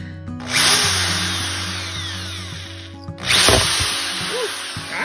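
A power screwdriver drives a screw and nut into a grouted chick mosaic panel being prepped: two loud whirring bursts, the first about three seconds long and the second shorter, close by with no talk.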